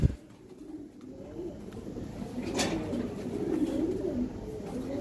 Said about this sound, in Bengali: এই এক পেয়ার কবুতর দেখেন, এটা এবারের টুর্নামেন্টের কবুতর।